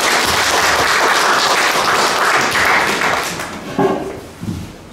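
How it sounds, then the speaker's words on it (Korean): Applause welcomes a professor to a lecture on inter-Korean and US relations, a dense burst of clapping that holds strong and then tapers off, ending with a few scattered thumps. "큰 박수로 맞아주시기 바랍니다."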